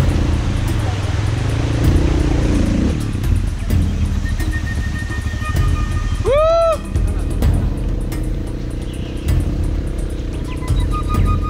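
An off-road motorcycle engine runs steadily while crossing a river in Colombia's Serranía de la Macarena region, a loud close drone with a few sharp rising whistle-like tones midway and no clear talk.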